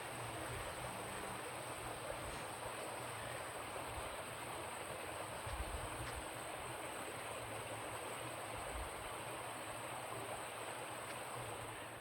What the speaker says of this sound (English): This creek is flowing nicely.